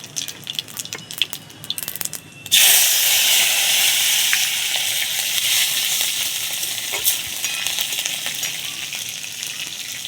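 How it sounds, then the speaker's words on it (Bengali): Green chillies hit hot cumin-tempered cooking oil with a sudden loud burst of sizzling that settles into a steady, bright crackling fry, close and continuous after a few seconds of quieter kitchen clatter. "তেল গরম হয়ে গেছে। আর দিয়ে দেবো কাঁচা লঙ্কা।"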